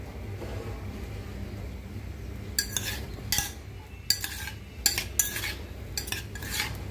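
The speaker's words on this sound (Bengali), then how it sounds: "এই চিংড়ি মাছগুলোকে একটু সয়া সস, 1 টেবিল চামচ সয়া সস আর একটু গোলমরিচ দিয়ে মাখিয়ে রাখবো।" Raw shrimp being mixed in a bowl with one tablespoon of soy sauce and black pepper, scraping and clinking softly in a series of short bursts over a low steady background hum, with no one speaking.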